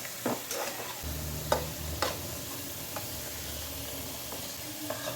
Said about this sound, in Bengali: এখন আমার আলুটিও খুব ভালো ভাজা হয়ে গেছে।